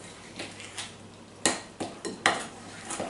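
A fork clinks against a bowl as an egg is stirred into a peanut butter and sugar cookie mixture, about eight light, irregular taps and scrapes close by.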